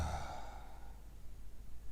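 A loud, breathy exhalation during yoga breathing practice, strongest in the first half-second and then trailing off into a soft, airy hiss over quiet room tone.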